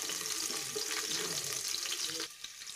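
Onion, dried chili and crushed garlic sauté in hot oil with a dense, steady hissing sizzle up close, dropping off abruptly near the end.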